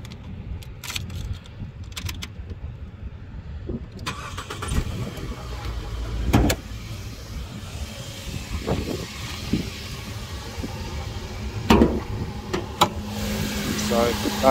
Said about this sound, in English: So what we'll do now is we're going to quickly start the car.